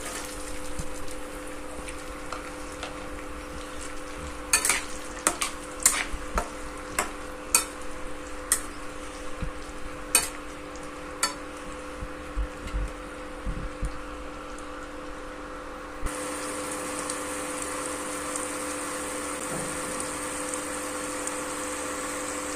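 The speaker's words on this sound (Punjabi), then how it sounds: "ਹੁਣ ਇਸ ਵਿੱਚ ਪਾਵਾਂਗੇ ਬਰੀਕ ਕੱਟੇ ਪਿਆਜ਼ ਤੇ ਲਸਣ" Finely chopped onion and garlic fry in a pan after cumin has been roasted, a steady low sizzle with a series of sharp spoon clinks and scrapes against the pan, then a brighter, hissier sizzle in the final stretch.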